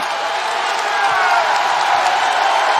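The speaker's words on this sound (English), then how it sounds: "this holiday crowd is jacked up at Littlejohn" A holiday crowd roars steadily inside Littlejohn Coliseum during a 2019-20 Yale vs. Clemson college basketball game, a dense, even wash of cheering with no clear claps or voices standing out.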